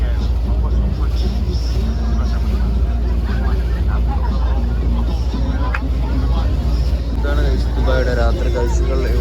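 A cruise boat moves across the water at night in Dubai, its low steady rumble running continuously beneath loud crowd chatter and voices on board.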